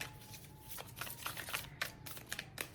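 Advice cards being shuffled and drawn by hand, a run of crisp, close riffling flutters in several short bursts with quiet pauses between, no talking.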